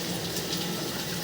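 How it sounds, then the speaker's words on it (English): Water running steadily through a drain pipe with good pitch, a continuous smooth rushing wash captured from inside the line, loud and unbroken throughout. "this line looks like it's flowing nice and smooth, has good pitch on it so it keeps the water moving"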